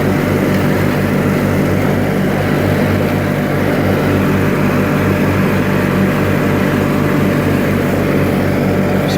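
A 1986 John Deere 318 lawn tractor mowing with a 50-inch deck, its engine droning loud and steady at close range with a constant hum and no pauses.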